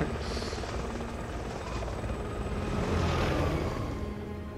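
Steady whirring rotor noise of a helicopter in the video game Resident Evil 6 drones throughout, loud and continuous, with a faint voice mixed underneath.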